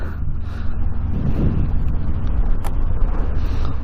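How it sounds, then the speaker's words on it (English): Strong wind buffets the microphone outdoors, producing loud low rumbling gusts that swell and fade across the whole stretch. "It's really, really windy."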